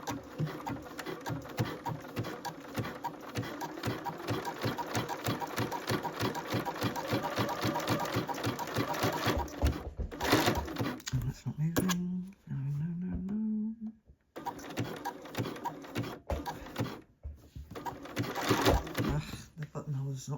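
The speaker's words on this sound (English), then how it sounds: "So I've got an automatic buttonholer on here." A sewing machine stitches a buttonhole on a jacket with an automatic buttonholer, a rapid steady chatter of needle strokes that stops and restarts, with a person talking over and between the runs.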